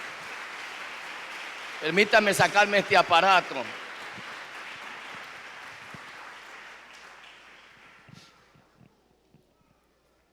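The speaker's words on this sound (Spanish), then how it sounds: "Dale un aplauso fuerte al Señor." A congregation at a national church congress bursts into loud applause that washes out and slowly fades over several seconds while someone speaks above it.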